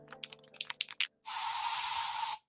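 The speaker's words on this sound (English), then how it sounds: "So you just used bug spray in your home." Bug spray from an aerosol can bursts out in a single steady hiss of about one second, loud and close, following a few quick clicks and taps in a radio ad.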